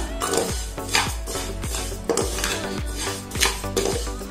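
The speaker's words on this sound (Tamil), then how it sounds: "அந்த சேமியா நம்ம ரோஸ்ட் பண்ண போறோம்." Vermicelli (semiya) roasting in a pan, heard as steady metallic scraping and clinking of a spoon stirring against the pan in a repeated rhythm, close and fairly loud, with no talking.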